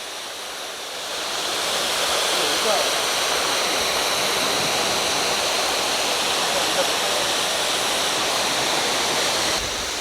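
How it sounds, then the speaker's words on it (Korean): Steady roaring rush of the Yongseo waterfall in a valley in Gapyeong, a dense broadband wash of falling water that swells in after the first second and holds loud and constant, with no voices. "현재 용서폭포 상황"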